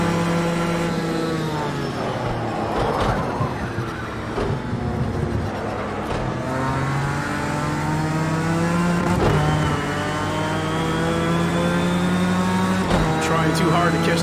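Racing engine of a car in the video game Project Cars 2, a steady sustained drone with shifting revs and other cars nearby, continuous under someone talking.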